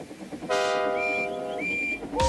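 A steam engine named Trojan gives a long, loud, steady whistle, a bright multi-toned blast that shifts pitch partway through before a second whistle cuts in at the end, with no talk.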